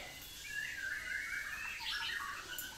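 A songbird in breeding condition, a cucak rowo or murai batu, gives faint, quick chirps and warbling calls over a soft background hiss with no other voices.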